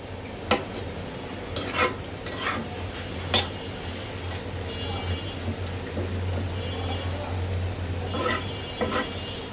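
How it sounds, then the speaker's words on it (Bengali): Leafy greens fry with green and naga chillies in a pan, a low steady sizzle with intermittent scraping stirs of a spatula against the pan, close and fairly loud. "একদম ভাজা ভাজা করে নিব"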